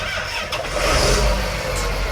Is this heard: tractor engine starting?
yes